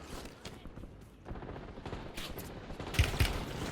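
Scattered gunshots and bursts of fire in a Warzone match crackle against a busy game background, with a couple of heavier, closer shots near the end.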